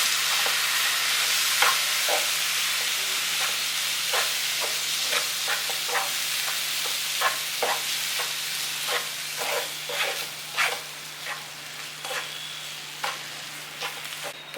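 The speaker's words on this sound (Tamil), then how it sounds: "இந்த சூட்டிலே வந்து நம்ம கிளறணும்" A sweet mixture of milk and ghee is stirred in a hot pan, giving a steady sizzle with a run of scraping stirs, loud and close, with no talk.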